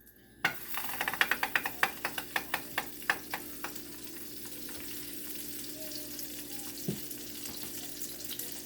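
Butter crackles and sizzles in a hot pan, with a burst of sharp pops early on that settles into a steady, close hiss.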